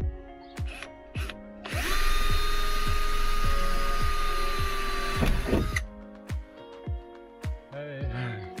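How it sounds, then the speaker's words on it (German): A power drill whines loudly for several seconds as it bores through a campervan's roof, starting and stopping around it with short bursts and clunks of handling. "jetzt muss ich ein Loch in mein Dach bohren"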